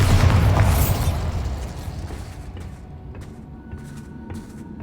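A Bombarda spell detonates in Hogwarts Legacy with a loud booming blast that rolls off into a fading rumble, followed by a few faint crackles of settling debris.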